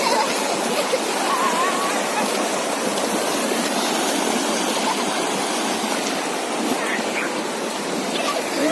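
A hill river rushes steadily where local people bathe, its loud, even flowing water filling the whole stretch without a break.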